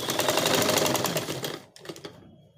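Sewing machine stitching elastic into a trouser waistband, a loud steady whirring run for about a second and a half, then stopping with a few short bursts and a faint tail.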